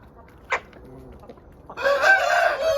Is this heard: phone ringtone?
no